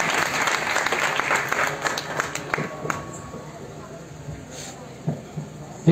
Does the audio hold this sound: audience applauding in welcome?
yes